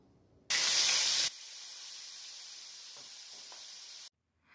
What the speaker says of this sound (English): My pan is nice and hot. I am going to add the vegetable oil.